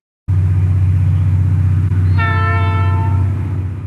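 Soo Line 940 steam locomotive climbs a hill with a steady, loud low rumble of the train, then a long multi-tone horn blast sounds partway through over the continuing rumble.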